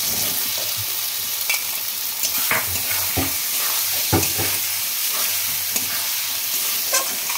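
Spices frying in a pan with salt, chilli powder and onion paste, a continuous loud sizzle with repeated scrapes and taps of a spoon stirring against the pan throughout.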